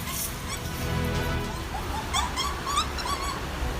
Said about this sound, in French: une meute de chiens des buissons déchaînés, dont les cris étranges et glaçants résonnent dans l'air